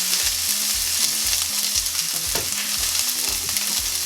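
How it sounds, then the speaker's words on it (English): Onion fries in a hot pan for a Ugandan rolex street-food filling, a constant loud sizzle with rhythmic scraping strokes from stirring repeating throughout. "I want to fry the onion a little bit"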